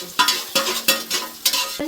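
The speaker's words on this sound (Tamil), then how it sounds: "வெங்காயம் வதங்க" Repeated scraping stirs onions in a hot pan, with a steady sizzle beneath as they are turned over and over at close range.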